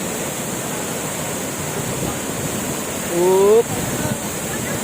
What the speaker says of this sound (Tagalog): Nandito sa falls eh.